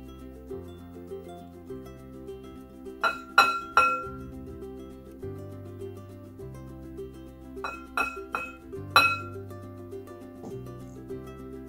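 A no-bake oatmeal cookie mixture being stirred in a bowl, with clusters of sharp clinks from the utensil striking the bowl in short bursts, close and fairly quiet, over a steady low background hum.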